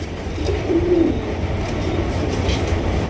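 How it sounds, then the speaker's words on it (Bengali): High-flying Giribaz pigeons, large birds, cooing softly amid a steady low background rumble, with one brief distinct coo standing out near the start. "এখানে রয়েছে আরো একজন হাই ফ্লাইং গিরিবাস কবুতর দেখতে পাচ্ছেন"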